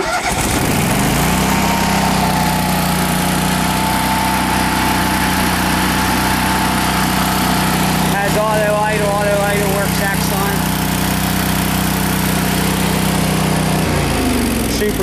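A Lincoln Ranger 250 gas-powered welder generator with a Kohler 20HP engine cranks and fires up, then runs at a loud, steady drone close by, with a brief rattle midway and the engine easing off at the end; someone talks over it.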